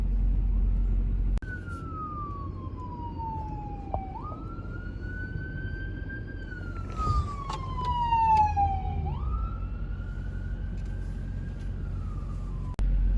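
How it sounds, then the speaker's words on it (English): Ambulance siren wailing on an interstate amid slow tornado-aftermath traffic, a long rising and falling tone sweeping steadily and moderately loud over a constant road rumble, with no talking. "There's an ambulance coming up."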